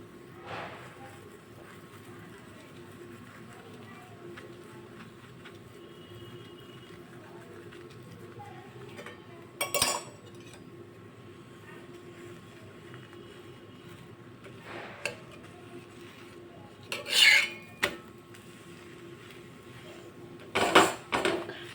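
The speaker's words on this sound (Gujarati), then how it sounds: "હવે આપણે ઉથલાવીને બીજી બાજુ પણ તેલ લગાવી લેશું." Methi thepla being flipped on a hot pan and oiled, a long quiet stretch of faint pan hiss broken by a few sharp clinks and scrapes of utensil against metal.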